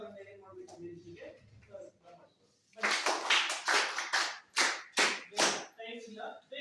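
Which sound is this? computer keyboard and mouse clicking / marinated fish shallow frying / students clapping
students clapping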